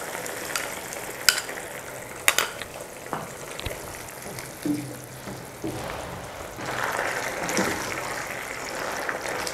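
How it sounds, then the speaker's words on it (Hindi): Chicken pieces coated in cornflour are stirred in a hot pan, sizzling steadily close by while a utensil scrapes and knocks now and then, and the frying grows louder and denser toward the end. "चिकन को थोड़ा मिक्स करके पकाते हैं, तकरीबन 1 मिनट हमने इसको मिक्स करना है"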